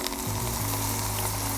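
Mushroom kebabs sizzle steadily under a heavy pan weight pressed on top over a fire, a dense, even frying hiss with a low hum beneath, close and continuous with no talk.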